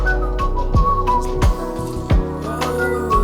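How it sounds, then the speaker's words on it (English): Someone whistles a tune in short melodic phrases, loud and close, with sharp percussive thumps from a music track hitting at regular intervals underneath. "Is that you whistling?"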